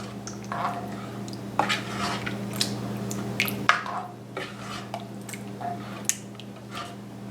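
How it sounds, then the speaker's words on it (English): A spoon works through a pot of venison chili with about twelve ounces of beer and seasonings, giving repeated wet squishing and scraping strokes with occasional clinks against the pot, steady and close over a low background hum. "And let's stir this in good."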